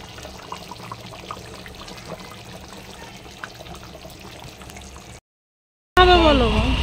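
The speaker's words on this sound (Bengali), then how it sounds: "এবার জলটা দিয়ে দেবো।" Water is poured into a pot of curry that has been cooking down, a steady close trickling pour running for several seconds, followed by a short silence and a louder burst.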